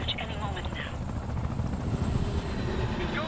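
A helicopter flies over a bridge in Wolfenstein: The New Order, its steady, throbbing rotor rumble filling the whole stretch as voices talk over it.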